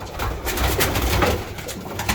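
Pigeons coo softly and repeatedly nearby, a low throaty burbling sound with no voices.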